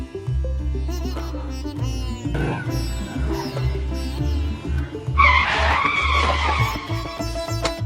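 A motorbike skid sound effect in a comedy sketch: loud engine drone with a screeching tire squeal rising midway, continuous and close, no voices.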